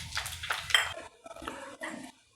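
Mustard seeds crackle and splutter in hot oil as tempering for a buttermilk curry, with sharp, loud bursts of popping that come in clusters and then fade toward the end.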